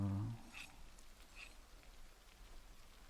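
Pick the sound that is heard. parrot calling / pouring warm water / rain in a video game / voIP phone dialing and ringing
rain in a video game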